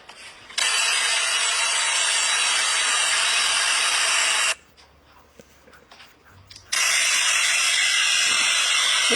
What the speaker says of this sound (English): This is another electric cleaner. You can also use it for the corners.